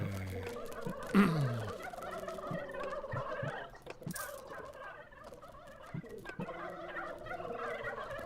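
Turkeys gobbling in the strategy game Dungeons 3, several warbling gobbles overlapping against a busy game backdrop, one louder call near the start, moderately quiet and with no talking.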